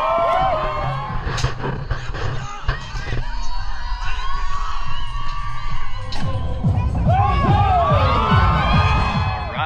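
Rodeo crowd in an outdoor arena cheering and whooping during bull riding, a dense, steady roar of voices with scattered shouts and rising cries throughout, some children's yells mixed in.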